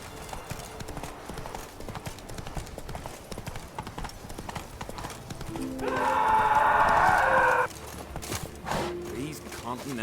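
Roach, the horse in The Witcher 3: Wild Hunt, trots with rapid, loud hoof clops throughout, briefly joined by a sustained noisy burst midway, with game voices talking over parts of it.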